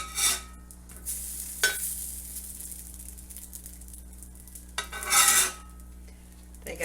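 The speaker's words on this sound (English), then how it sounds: "I'm going to go ahead and flip these." Homemade English muffins flipped in a smoking-hot pan: a soft background sizzle broken by a few scraping strokes and metallic clinks of a utensil against the pan, close by, with no voices.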